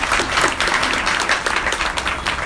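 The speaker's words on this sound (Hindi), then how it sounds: "आप सभी के लिए जोरदार ताली बजाएं।" An audience at a devotional spiritual gathering in Noida breaks into loud, sustained clapping. The applause is close and dense and fills the whole moment.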